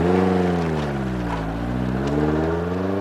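Lotus mid-engine sports car engine with a steady low droning note whose pitch dips and rises again as it drives, loud and close with no talk over it.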